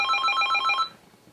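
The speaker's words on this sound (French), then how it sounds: "Le Memix va sonner d'ici quelques instants." A Memix programmable voice reminder device rings its alarm, a bright pulsing electronic ring tone repeating for under a second before cutting off, close and alone.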